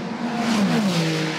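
Toyota and Ferrari endurance race cars in FIA WEC racing pass by loudly with a sustained engine roar whose pitch slowly drops, close and alone without voices.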